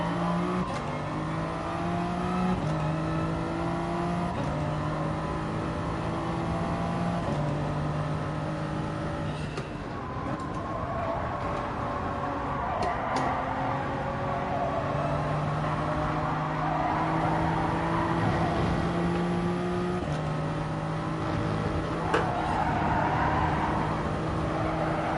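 Race cars in a racing video game, among them a VW Beetle, Lamborghini Huracan, Porsche 911 and WRX, drone steadily with engine tones rising and falling through gear changes, loud and continuous with no talking.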